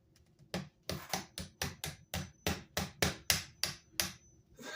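Sharp metallic taps drive a pin into a Stoeger S3000C shotgun trigger assembly, about a dozen close, crisp strikes in a quickening series, with no talking.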